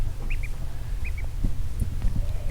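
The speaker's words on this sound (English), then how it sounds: "Is that a duck?" A duck quacks in two short paired bursts, moderately close, over a steady low rumble of background noise with scattered knocks.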